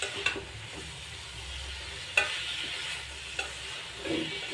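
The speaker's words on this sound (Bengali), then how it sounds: "এরকম সুন্দরভাবে আমরা একটু নেড়ে চেড়ে নিব নাড়তে হবে ধৈর্য ধরে" Flat beans (shim) fry in a pan while being stirred with a utensil, giving steady close sizzling with occasional scraping clicks and light knocks against the pan, without talk.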